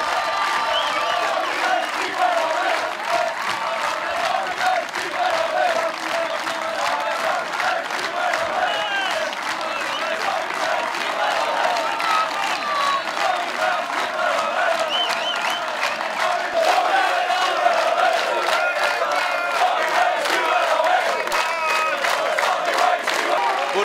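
A football crowd at a Blyth FA Cup upset win cheers and applauds continuously, a dense roar of clapping, shouting and whoops sustained from start to finish, with faint voices mixed in.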